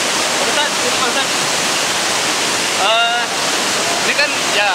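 River water rushes steadily at the confluence of two rivers on a sacred heritage site visit in West Java, a loud continuous roar filling the whole stretch, with a voice faintly speaking beneath the water in places.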